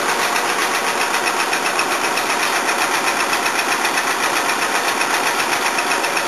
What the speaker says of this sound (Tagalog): You see how the engine works now.